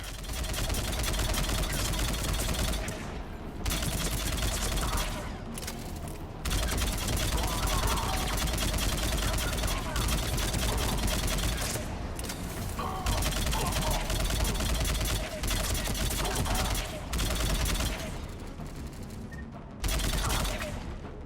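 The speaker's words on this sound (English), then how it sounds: "He's taking fire. Protect him!" Sustained bursts of rapid gunfire in the Mass Effect video game, loud, dense and continuous with brief gaps, mixed with combat noise and mechanical rumble.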